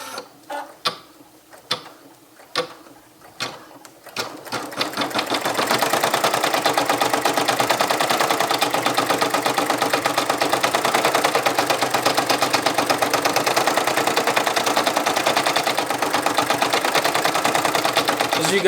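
An embroidery machine runs steadily after a few opening clicks, working through a placement stitch and then a tack-down stitch with a continuous fast needle chatter and motor hum, close and loud throughout.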